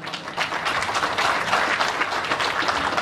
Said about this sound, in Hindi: तालियों की गड़गड़ाहट बहुत कम लग रही है।